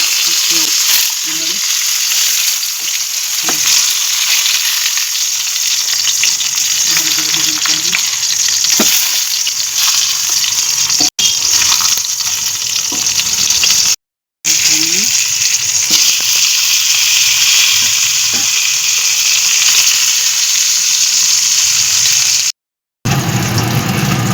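Salt-and-turmeric-coated pointed gourds (potol) frying in hot oil in a pan, a steady, close, dense sizzle with faint stirring scrapes that runs throughout, broken by two short silent gaps.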